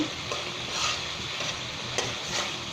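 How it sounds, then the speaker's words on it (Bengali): Continuous sizzling from potatoes and peas frying in a pan, with soft periodic scraping as they are stirred, close and steady. "ভালো করে কষিয়ে নেব"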